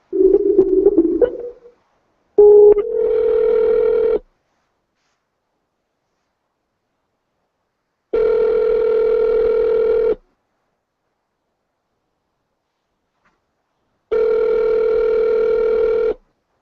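Outgoing telephone call ringing back, two-second ring tones repeating at steady intervals with silent gaps, clear and close, after a brief burst of handling and a short tone at the start.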